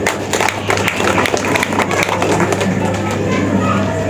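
Audience applause at a community association gathering in Bali, dense steady clapping filling the space over a constant low electrical hum throughout.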